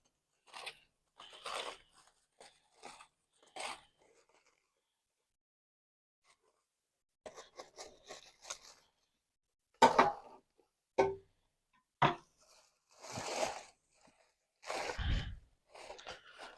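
Scissors or a knife cuts through the tight wrapping on a smoked brisket, producing scattered crinkling and sharp snipping crunches. They arrive in short bursts, close and fairly quiet, with silent gaps between them.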